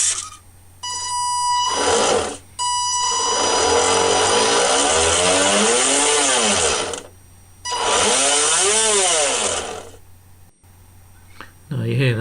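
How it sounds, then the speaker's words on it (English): The engine of a 1:12 scale steel model narrowboat running in several long bursts. It gives a close, loud buzzing vibration whose pitch sweeps up and down, with brief quiet gaps between runs. "Now you hear that engine vibration."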